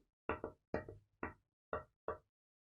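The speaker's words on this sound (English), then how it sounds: "So the wolf went up to the door and knocked" Five hard knocks rap on a wooden cottage door, most landing as quick doubled raps, spaced evenly and ringing out clearly against silence.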